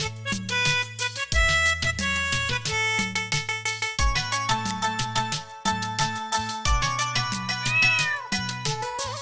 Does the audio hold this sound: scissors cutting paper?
no